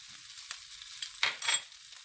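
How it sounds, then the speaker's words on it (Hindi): Butter sizzles on a hot tava while pav bread toasts for pav bhaji, with soft frying crackle and a louder burst of sizzling near the end; no talking. "पाव को सेकने के लिए मैं तवे पर बटर डाल रही हूँ।"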